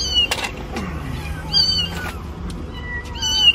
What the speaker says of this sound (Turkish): aracın kaputundan miyavlama sesi duyan